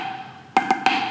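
A snare drum drag played with an overly open double stroke: three crisp, close strikes in quick succession, the grace notes spaced too widely before the main note, sounding alone at moderate loudness.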